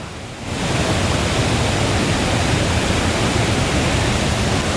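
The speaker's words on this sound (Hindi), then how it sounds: "बारिश का पानी बहुत तेजी से बहता हुआ और देखिए झरने का रूप धारण कर चुका है" Heavy rainwater rushing down in a torrent like a waterfall during intense Indian monsoon rains, a loud, steady, broadband roar of gushing water that swells in after a brief quieter start.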